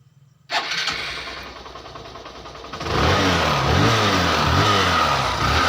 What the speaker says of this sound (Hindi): अब इस बाइक को मैं चाबी बंद करके एक बार सेल्फ से फिर स्टार्ट करूँगा तो ये बाइक हल्के सेल्फ में स्टार्ट हो जाती है